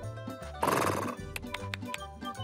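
A horse gives a single loud, close whinny that rises and wavers for about half a second, followed by lighter clip-clop-like knocks, with no voices present.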